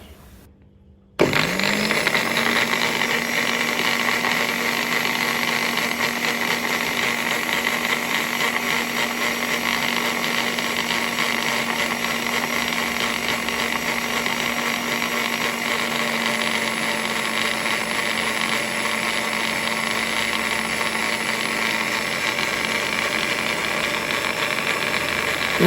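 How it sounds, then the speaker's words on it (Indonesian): An electric blender starts up and runs steadily for about twenty-five seconds, blending tempe gembus batter with water into a loud, constant motor whine and whirr with no talking. "Setelah itu lanjut ini langsung aku blender"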